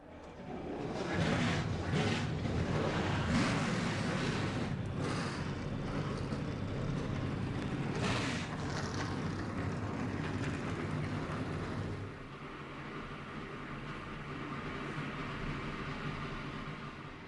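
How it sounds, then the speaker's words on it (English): Race truck engines fire up at Kansas Speedway in a racing video game: a loud, dense, sustained roar of many engines that eases to a lower steady drone partway through. "Let's go trackside here at Kansas for the command to fire engines. Drivers, start your"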